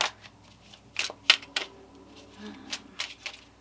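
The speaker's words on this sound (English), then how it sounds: "Let's just shuffle these until some fall out here." Tarot cards riffle and slap in a few quick bursts, a close, papery shuffling sound with pauses in between and no speech.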